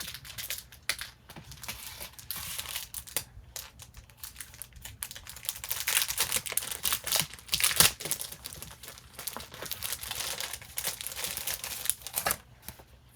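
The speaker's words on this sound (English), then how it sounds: "Paper ephemera. Let's see what we have." Paper ephemera sheets being handled during a craft supply unboxing: close, steady crinkling and rustling of paper throughout, with brief sharper crackles and no talking.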